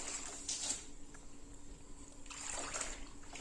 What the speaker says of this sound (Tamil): இப்போ எல்லா மேட்டுகளையுமே நல்லா வந்து அலசி விட்டு எடுத்துக்கலாம்